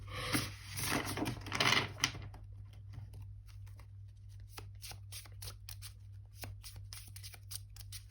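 Tarot cards being shuffled by hand, a dense riffling burst at first, then lighter scattered taps and slides of the deck, close and quiet with no talk.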